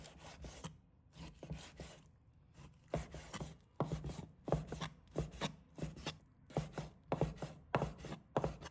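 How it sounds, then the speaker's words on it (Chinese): A knife slicing lean pork into strips on a cutting board, producing quiet, close, rhythmic strokes with knocks against the board in a steady series, with no talking. "把它切成丝。"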